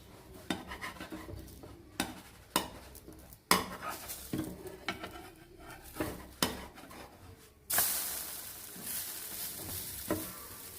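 Egg thuvayal cooking on a tawa, with repeated sharp spatula scrapes and clacks as it is flipped, then a steady louder sizzle after the turn; close and clear, no talking.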